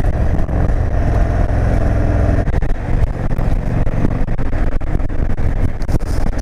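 Indian motorcycle cruising in sixth gear at about 65 mph on the highway, a steady loud engine drone with rushing wind noise, dipping briefly partway through.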